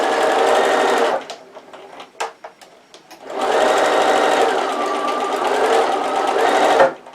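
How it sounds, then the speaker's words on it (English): A domestic sewing machine stitches across a fabric gift box with a 1/4 inch seam, a steady motor whir in two long runs separated by a brief pause with light clicks. "I'm going to stitch from there to there, right across, and about a 1/4 inch again"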